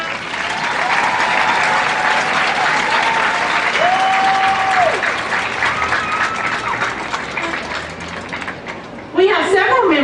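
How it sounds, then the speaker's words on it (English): A high school graduation crowd gives sustained, loud applause for the class of 2020's families and teachers, a thick continuous clatter with a few cheers or whistles rising over it, and a voice cutting in near the end. "Please give your families, teachers, counselors, friends, and classmates a round of applause."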